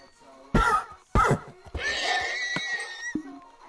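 Horse neighing in a survival video game, with two short loud whinny bursts followed by a longer, steadier call, close and clear with no talk over it.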